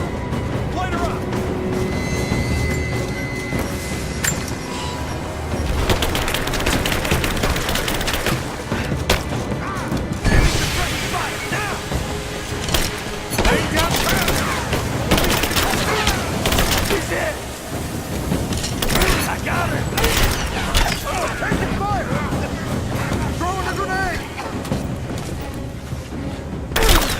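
Rise of the Tomb Raider combat plays out as sustained gunfire with cracking, splintering wood impacts and heavy crashes. The din is dense and loud throughout, with shouted voices mixed in.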